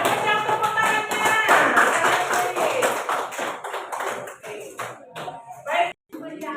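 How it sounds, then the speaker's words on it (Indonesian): Applause in a classroom during a crafts lesson: quick, rhythmic clapping mixed with children's voices, which carries on before a short break near the end. "Yang kencang tepuk tangannya."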